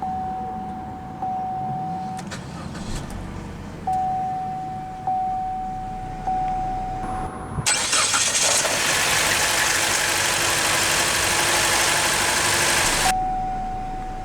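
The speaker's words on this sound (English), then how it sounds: "let's go ahead and start the engine" A 2014 Chevrolet Cruze 2LT compact car being started: a few chimes precede a short starter crank at about eight seconds, then the engine catches and settles into a steady, loud idle before cutting off near the end.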